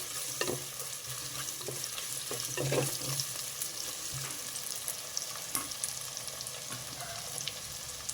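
Chopped onions fry in a pan for a leafy-greens pulao, a continuous close sizzle broken by scraping stirs and small clicks of a spoon against the pan.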